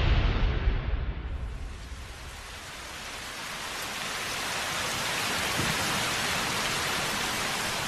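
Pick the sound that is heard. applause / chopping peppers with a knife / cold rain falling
cold rain falling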